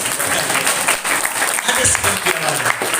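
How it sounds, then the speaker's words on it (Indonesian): Dense, steady applause from an audience at a Ramadan religious program in a high school fills the space continuously, with a voice speaking over the clapping. "Wah, hebat lo tepuk tangan lo."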